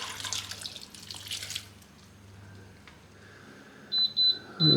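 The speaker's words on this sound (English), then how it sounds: "I'm going to add 1 cup of water first. Maybe 2 cups." Water is poured from a cup into an Instant Pot pressure cooker holding kabocha pumpkin, a soft trickling splash early on, then quiet, followed by a few electronic beeps from the cooker at the end.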